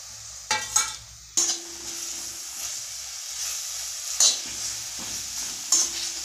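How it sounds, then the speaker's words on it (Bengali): Chopped tomatoes go into a pan of frying spices and turmeric, which sizzle loudly for a moment. Softer sizzling follows, broken by several sharp scraping bursts from a utensil stirring the pan. "এবার আমি এতে দিয়ে দেবো কুচি করে রাখা টমেটোগুলো"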